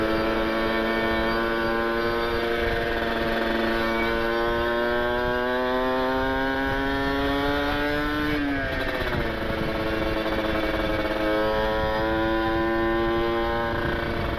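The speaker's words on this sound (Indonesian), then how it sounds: "pada geber, knalpot brong" Loud open-exhaust motorcycles drone steadily nearby at a traffic light, one revving up and dropping sharply midway, with a constant rumble throughout.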